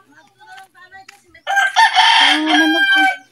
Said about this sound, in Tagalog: Dami pala manok si Uncle.